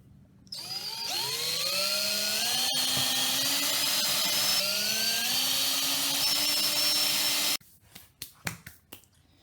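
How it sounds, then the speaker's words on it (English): A power drill bores holes into a wooden WWI trench club, running loudly and steadily for about seven seconds with its pitch rising and falling under load, then cutting off into a few short handling knocks. "Once you calculate they're all the same, you start drilling."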